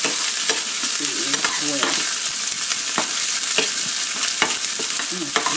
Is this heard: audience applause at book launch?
no